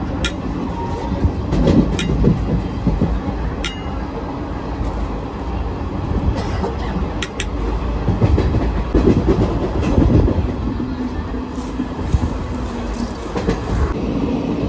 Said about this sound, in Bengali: আমাদের ট্রেন জাস্ট ছেড়ে বেরোলো হচ্ছে শক্তিগড় স্টেশন